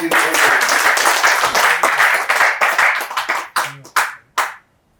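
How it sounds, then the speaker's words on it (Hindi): Loud audience applause at a wellness business plan presentation in India, a dense burst of many hands clapping close by that thins into a few last scattered claps and then stops. "तो जोरदार तालियां हो जाए।"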